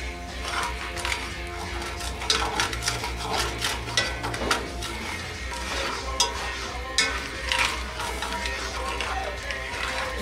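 Onion cooks in a pot on a wood stove for pot roast, a close sizzle with stirring scrapes and clanks of metal, faint background voices underneath.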